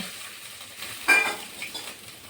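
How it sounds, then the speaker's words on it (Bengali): Black cumin and a splash of water hit hot mustard oil in a wok and start to sizzle, with a sharp hissing burst just past a second in, then a softer, steady crackle. "প্রথমে দিদা কড়াইয়ে সর্ষের তেল দিয়ে একটু কালো জিরে দিয়ে একটু জল দিয়ে দিল"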